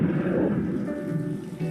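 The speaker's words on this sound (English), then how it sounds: "Oh yeah, it's raining again." Rain and thunder in the animated series RWBY, Volume 9: a low, rolling thunder rumble over a steady wash of rainfall, moderately loud and continuous, with no voices.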